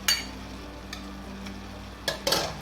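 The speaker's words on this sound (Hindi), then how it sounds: "और अब मैं इसके अंदर आधा कप घी डाल दूंगी और घी डाल के भूनेंगे।" Carrot halwa roasting in ghee in a pan, a soft low sizzle broken by a few brief scraping stirs and clinks of a spoon against the pot.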